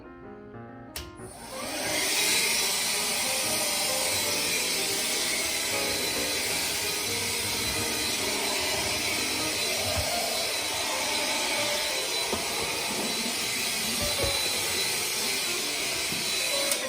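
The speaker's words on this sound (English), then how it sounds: "we're going to vacuum and get all the dust and dirt out from the cabinet" A vacuum cleaner starts up after a brief moment and runs steadily with a loud, constant whooshing roar, close by and uninterrupted.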